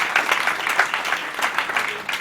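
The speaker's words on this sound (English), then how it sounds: "So, please, can you give a round of applause," Audience applause for Pastor Dayo Ekong at a political gathering: a steady wash of many hands clapping together, fairly loud and continuous, with no clear break.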